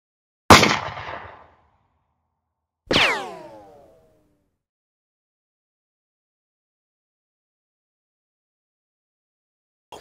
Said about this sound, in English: Someone with a 22 is up there shooting squirrels.